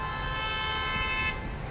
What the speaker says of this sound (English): And as usual, lots of honking.